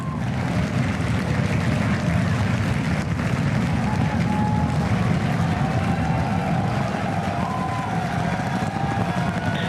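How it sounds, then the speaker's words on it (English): SpaceX Starship booster with all engines lit during launch, a continuous deep, loud roar holding steady throughout with no letup. "All engines are lit."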